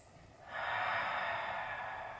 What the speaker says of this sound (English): we're going to lift our arms, breathing in